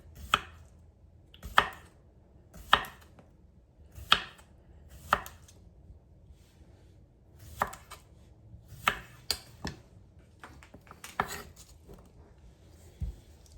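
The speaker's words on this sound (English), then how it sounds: "we're going to cut the half just in slices. So they're like little half moons" A knife slices cucumber halves into half-moon pieces on a board, a series of about a dozen crisp, close chops at an uneven pace with short gaps between.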